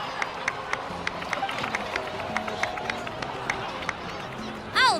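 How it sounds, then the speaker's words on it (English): Crowd applause in the video game Genshin Impact, steady clapping and cheering from a gathered crowd, moderately loud, running throughout. "please give another round of applause for them"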